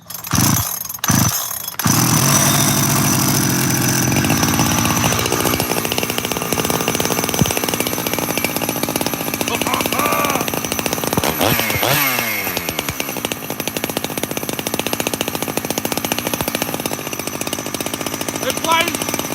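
Big bore chainsaw engine being pulled over a few times and then running loud and steady at close range, with a brief rise in revs partway through.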